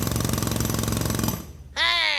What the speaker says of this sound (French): Là, un autre utilise le marteau-piqueur géant de son engin.